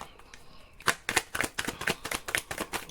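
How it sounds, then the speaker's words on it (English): Tarot cards are shuffled by hand in a quick run of crisp, close riffling slaps and flutters, following a quiet stretch at the start. "Right, quick shuffle."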